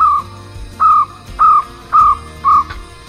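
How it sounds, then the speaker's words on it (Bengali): A bird in a quiet hill forest near Kalimpong calls five times in a regular rhythm, each note a clear, fairly loud whistle-like call, over a low background hum and no talking. "মাঝে মাঝে পাখির ডাক, ঝিঁঝির ডাক,"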